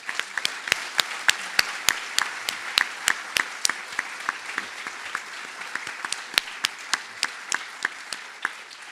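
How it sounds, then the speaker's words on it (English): Applause from an audience at the A.K. Guy Awards community event at the YMCA, a continuous wash of many hands with sharp individual claps close by punctuating it throughout. "Let's give a last round of applause to tonight's Changemakers"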